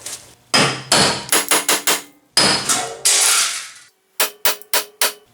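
Loud metal hammer blows on a rusted car ball joint resting on wooden blocks, ringing strikes in uneven bursts of single hits and quick runs of four or five, with short pauses between, close and alone.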